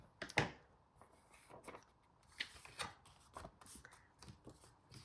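A piece of vellum paper being angle cut for a card-making project: quiet, intermittent snipping and sliding sounds, a few short crisp cuts with small rustles between them, close and soft.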